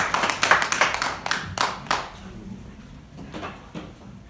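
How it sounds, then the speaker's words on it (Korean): An audience claps warmly to welcome a lawyer at a lecture on constitutional amendment: a burst of dense, fairly close hand claps that thins out and fades to scattered claps within a few seconds. "우리 장재원 변호사님께 뜨거운 박수로 이렇게 찬양하겠습니다."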